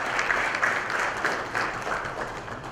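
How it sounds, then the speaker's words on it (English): A crowd applauding steadily throughout, a dense, even wash of clapping with no voices. "Let's appreciate them with a huge round of applause."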